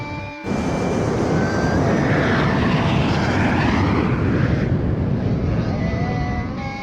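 Fighter jets of the Yuktobanian 703rd Squadron roar past in Ace Combat 5, a loud sustained engine rush with whining tones that rises abruptly after a brief silence and then gradually fades.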